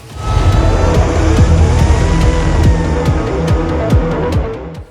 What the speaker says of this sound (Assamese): আকাশত যুদ্ধ বিমানৰ গুমগুমনি